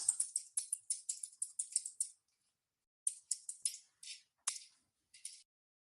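An email address being typed on a computer keyboard: crisp, close keystrokes in a quick run, then a pause and a few slower, separate taps, with no talking.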